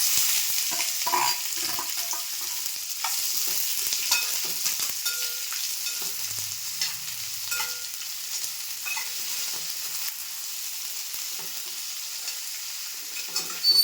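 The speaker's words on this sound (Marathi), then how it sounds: "कांदा सगळा भाजला पाहिजे, तळून आला पाहिजे, गोल्डन ब्राऊन झाला पाहिजे." Plenty of onions fry in oil in a pot until golden brown for chicken kheema, giving off a steady close sizzle with scraping stirs throughout and no voices.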